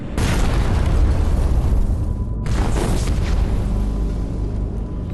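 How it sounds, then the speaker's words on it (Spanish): A loud, rumbling torpedo explosion booms and roars, followed after a brief dip by a second sustained roar, with no voices. "Tras una larga espera, escuchan una explosión."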